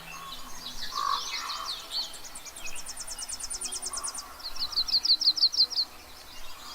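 A yellow-rumped warbler sings a bright, high warbling song of rapid repeated trills and sweeping chirps, with other birdsong faintly mixed in, fairly close and clear over quiet background.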